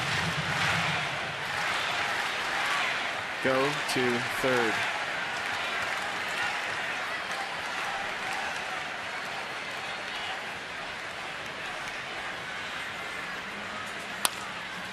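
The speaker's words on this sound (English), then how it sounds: "Listen to the crowd." Crowd noise from a baseball stadium crowd at a Mets–Nationals game, a steady broad roar sustained throughout, with a brief spoken line from a nearby voice and a sharp click near the end.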